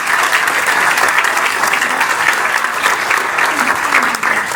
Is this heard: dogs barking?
no